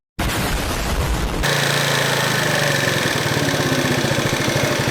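A scooter engine revving loudly, then dropping abruptly to a steady, rapidly pulsing idle that continues close and loud without talking.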